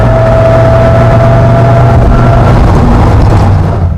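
A Dodge Viper engine roars steadily and loudly throughout, a deep sustained growl with no voices.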